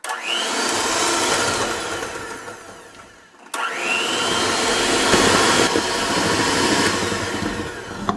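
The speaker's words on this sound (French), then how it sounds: "je vais commencer à battre les œufs et le sucre pendant un long moment pour que ça puisse bien monter" An electric mixer beats eggs and sugar for a black forest cake, giving a loud, steady whirring drone. It cuts out briefly and then starts again at the same high speed, with no talking over it.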